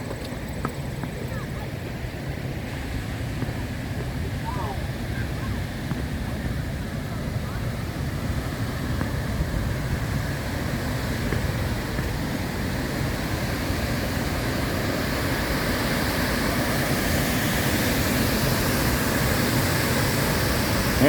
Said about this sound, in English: this is 70 feet of waterfall right here